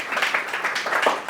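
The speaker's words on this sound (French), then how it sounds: "Vous pouvez applaudir les développeurs de Yarn." An audience at a technical talk on Node dependency management applauds. The short burst of dense, steady clapping fills the room with a wash of claps and barely any voice.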